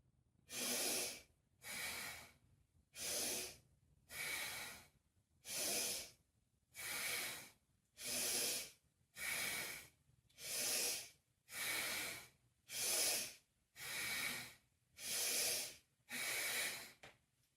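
Bellows breath, a rapid, forceful breathing exercise: about fourteen loud, sharp bursts of breath at a steady, roughly one-per-second rhythm, close and alone with no talking.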